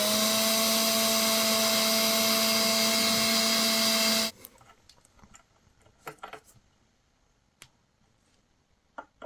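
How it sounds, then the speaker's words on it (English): A steady high-pitched motor whine of a small drill boring a small pilot hole during sofa repair runs for about four seconds, then cuts off, leaving faint scattered taps and clicks. "Just drill a little feeder hole."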